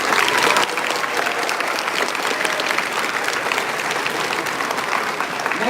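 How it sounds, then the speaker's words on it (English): Warm audience applause at a middle school eighth-grade graduation ceremony, a dense crowd of hands clapping steadily and evenly after an initial louder burst. "Round of applause."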